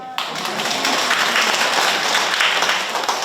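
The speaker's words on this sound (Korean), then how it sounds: "박수!" A lecture audience at Bundang St. John's Cathedral breaks into loud applause, bursting in sharply after a brief pause and holding as a dense, steady roar of many clapping hands.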